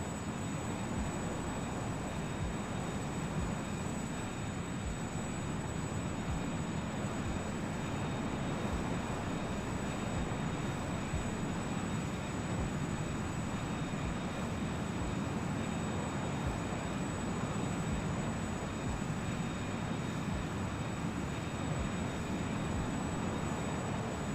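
A Learjet 35A jet engine in Microsoft Flight Simulator 2020 gives a steady, loud, broadband roar with a faint high whine, unbroken for about twenty-four seconds and with no talk.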